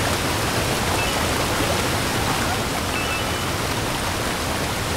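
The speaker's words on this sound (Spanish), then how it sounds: "Bajo la cascada, chaval." A waterfall in the Super Mario Odyssey video game gives a steady, loud rushing roar that fills the clip without a break.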